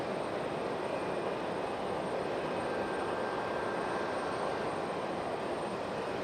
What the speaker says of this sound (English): Breeze Airways making their way in from White Plains.